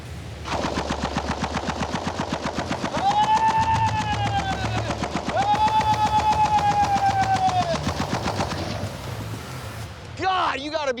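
An M60 machine gun, stabilized with a foregrip, fires in long rapid bursts with a brief pause between them, loud and close, ringing echoes trailing each burst, and a voice speaks near the end.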